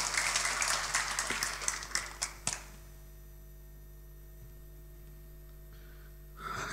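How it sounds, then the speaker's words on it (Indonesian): Church congregation clapping during a sermon, a dense burst of applause that thins into a few scattered claps and stops, leaving a quiet room with low hum, then faint sound returning at the end. "Kita beri tepuk tangan untuk kebenarannya."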